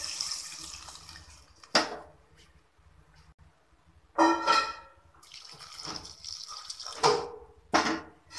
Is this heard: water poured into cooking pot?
yes